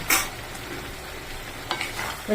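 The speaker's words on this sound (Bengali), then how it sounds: "খুব ভালো করে মিশিয়ে দিচ্ছি" Paneer keema being stirred in oil in a pan, a loud scrape at the start and again near the end over a steady low sizzle, no voices.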